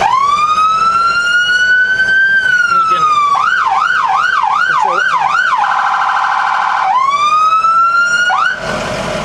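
A loud electronic siren on a 2008 Leader vehicle cycles through modes: a rising wail, a fast yelp, then a steady tone, close and continuous.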